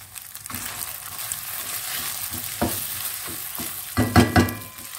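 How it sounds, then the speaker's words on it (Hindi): Walnuts, almonds and other dry fruits roast in a pan for sugar-free semolina halwa, a close sizzle broken by scraping stirs and clattering nut pieces, with several louder bursts of stirring toward the end. "थोड़े से ड्राई फ्रूट डाल लेती हूँ ताकि इसके साथ ये ब्राउन हो जाए, रोस्ट हो जाए।"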